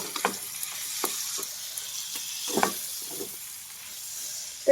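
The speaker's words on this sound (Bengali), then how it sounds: "এবার এগুলোকে ভালো করে মিশিয়ে ভেজে নেব।" Potatoes, onions and tomatoes fry in a pan for a home-style chow mein, giving a steady close sizzling hiss broken by several scraping stirs, with no talking.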